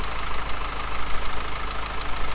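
A Kia Stinger with an inline diesel engine idles nearby, a steady low, slightly rough clatter with a constant hum and no voices.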